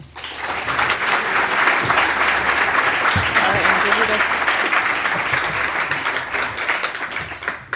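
A large audience applauds to welcome a speaker at a City Club of Cleveland event, loud sustained clapping that swells quickly and holds for several seconds before tapering off, with a few voices faintly mixed in.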